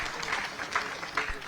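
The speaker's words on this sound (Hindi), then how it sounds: "एक बार जोरदार तालियों से उसका स्वागत और" Hands clap in continuous applause to honour a Commonwealth Games medal winner at a ceremony, a steady muffled wash of clapping heard from a distance and fairly faint throughout.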